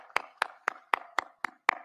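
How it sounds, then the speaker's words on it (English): Seven evenly spaced hand claps, about one every quarter second, sound close and sharp against near silence. They come at a WRC Safari Rally 2024 flag-off event at KICC in Nairobi, where a few people clap rather than a full crowd. "A big applause for this guy."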